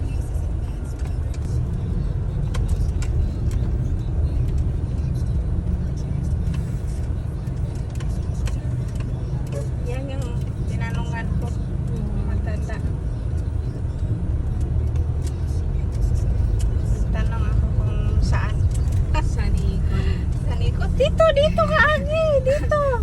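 Cars pass on a rough rural road near a rice mill in Bocaue, Bulacan. A steady low engine rumble runs throughout, and people talk over it for most of the stretch.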